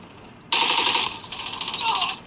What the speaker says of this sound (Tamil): இங்கே இதே சுடுற சவுண்டு கேட்குது